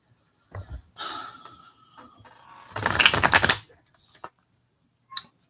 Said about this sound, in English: I'm gonna go ahead shuffle up these cards